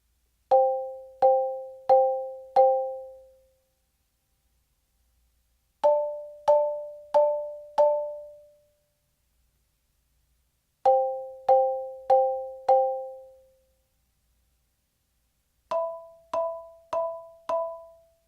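A four-mallet keyboard percussion exercise sounds as four groups of four quick, clear two-note strikes, each group ringing briefly before a silent rest, near and moderately soft.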